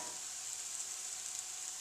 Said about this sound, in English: we'll put some of these peppers on here